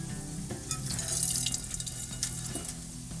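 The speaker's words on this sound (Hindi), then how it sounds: "राइस का मैं पानी जो एक्सेस वाटर है ये मैं डिस्कार्ड कर देती हूँ" Soaking water from basmati rice is poured off in a home kitchen, a steady faint running-water wash with a few small splashes and no talk.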